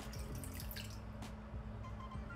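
Water splashes and trickles into a bowl of handvo batter ingredients with small drips, steady and close, with no talking.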